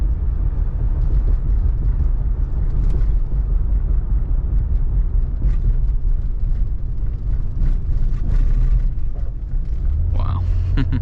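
A 1981 Cadillac Eldorado drives over rough roads and train tracks, a continuous heavy rumble from inside the cabin with thumps and rattles from the bumps, while a voice talks over it.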